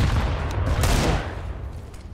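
Dense gunfire in the video game CS:GO, a loud continuous burst of overlapping shots with no clear gaps, heard alone without talk.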